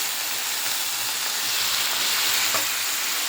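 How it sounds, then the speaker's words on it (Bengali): Ginger, onion and garlic paste masala with salt and turmeric frying in a pan, giving a steady close sizzle that runs on without a break, with no talk over it. "এখানে দিয়েছি আদা বাটা, পেঁয়াজ বাটা, রসুন বাটা, লবণ, হলুদ দিয়ে মশলাগুলো কষে নিচ্ছি।"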